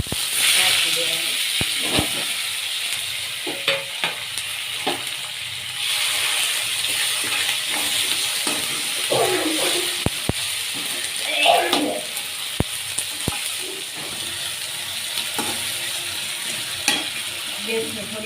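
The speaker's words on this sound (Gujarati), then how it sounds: "દાણા થોડીક વાર આમ તેલમાં ફૂટી જવા છે" Seeds crackle and sizzle in hot oil in a pan while a puffed-rice khichdi is being cooked, giving a steady frying hiss broken by sharp, scattered pops. The sound continues throughout, close by and moderately loud.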